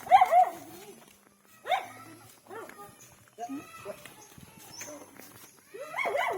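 Dogs bark in sharp, repeated bursts at close range, with a few pauses between them and people talking nearby.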